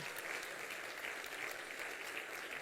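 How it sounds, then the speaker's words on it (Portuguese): A church congregation applauds during a sermon, steady, fairly faint clapping from many hands that continues evenly throughout. "Pode aplaudir ao Senhor, pode louvar ao Senhor."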